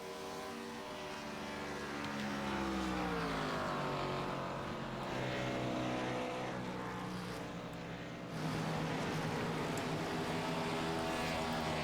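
Race cars on older tires in an ABN AdminBoxx Cup Series race, several engines roaring loudly together with pitch rising and falling as they pass, a continuous dense drone throughout.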